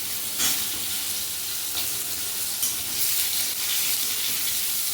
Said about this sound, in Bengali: প্রথমে ঝিঙেটা একটু নেড়ে নেব।